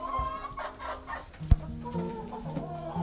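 Laying hens in a coop clucking, a few low, uneven clucks and soft murmurs over background hum, with one sharp click partway through.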